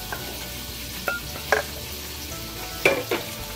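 Crispy breaded chicken wings tossed in barbecue honey sauce in a mixing bowl, soft sticky stirring with a few sharp clinks against the bowl over a low sizzling background.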